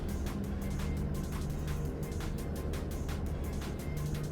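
An International Transtar 4070A truck engine in American Truck Simulator drones at a steady idle, a low constant rumble with faint rhythmic pulsing throughout and no speech.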